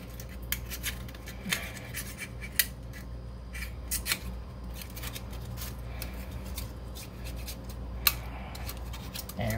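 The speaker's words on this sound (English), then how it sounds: "I'm pretty particular with my scraping. No, I just want to make sure I get all that old gasket stuff off." Scraper working old gasket material off a radiator, with irregular scratchy rasping strokes and occasional sharp clicks over a low background hum, close and without talk.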